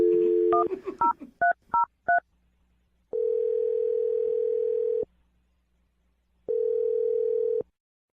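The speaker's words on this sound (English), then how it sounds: "We're about to dial his phone number." Telephone keypad tones beep in a quick series of about eight short presses, followed by two long steady ringback tones separated by silence, clean and close.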